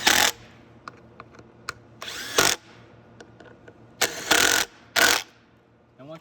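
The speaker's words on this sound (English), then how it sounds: "once those are in, you can tighten them with the 8th socket" A power drill or driver with a socket tightens the front fender bolts on a Venom 125cc motorcycle, giving several loud short whirring bursts separated by quiet gaps and light clinks.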